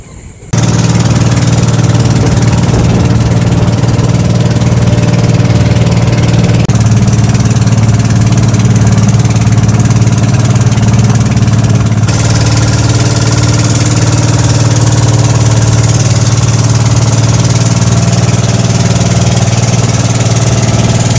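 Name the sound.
boat engine idling before departure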